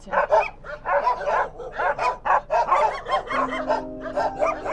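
Several dogs on a road in Jordan bark loudly and rapidly at close range beside a moving car, their yaps overlapping in steady bursts with no pause.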